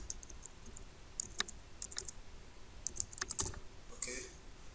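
Serial code being typed on a computer keyboard during a software install, a quiet run of close keystroke clicks in scattered bursts with no talk.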